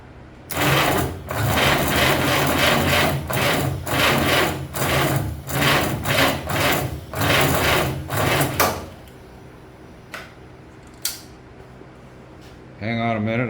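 A vintage six-cylinder Packard engine cranks and runs with a loud, rapid, rhythmic chugging for about eight seconds, then cuts out, leaving a few faint clicks and knocks.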